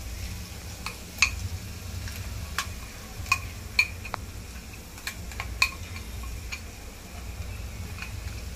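Gravy poured into a pan of sizzling cauliflower and peas, with a quiet, steady sizzle broken by sharp clinks and scrapes of a spoon stirring against the pan.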